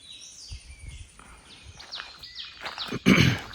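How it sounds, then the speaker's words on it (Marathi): Birds calling early in the morning on a farm in the Konkan countryside, a handful of sweeping chirps and whistles at moderate distance, one louder call near the end. "सकाळ सकाळ उठलो ना, पक्ष्यांचा आवाज येतो बघा,"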